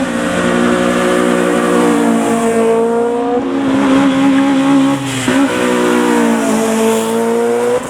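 Japanese cars pull away from a car meet in July 2019, engines loudly revving and rising in pitch as they accelerate past one after another, with continuous close exhaust noise throughout.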